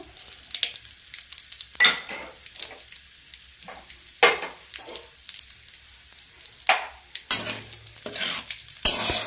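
Oil sizzles and crackles steadily with whole spices and bay leaves frying, broken by several louder bursts of stirring and scraping in the pan; no voices.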